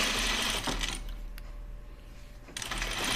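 A sewing machine runs fast, stitching fabric for a dress, loud and close for a burst at the start, pausing briefly in the middle, then starting up again near the end.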